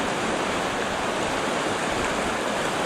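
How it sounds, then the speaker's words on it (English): A swollen river rushing at a river crossing in spring in Canterbury, New Zealand, a loud, close, continuous roar of churning water with no voices. "and made it to the first river crossing"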